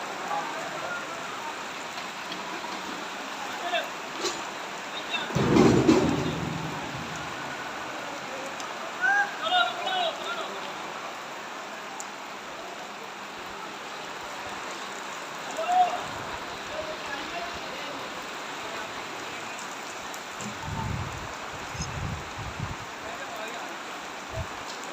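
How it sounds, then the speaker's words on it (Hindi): Heavy rain driven by strong wind pours down in Alipur Chattha Mandi, where dairies are being covered with tarpaulins; a dense, steady hiss of rainfall is broken by a few louder thumps and rustles nearby. "बहुत शदीद बारिश है, साथ में हवा भी बहुत तेज़ है।"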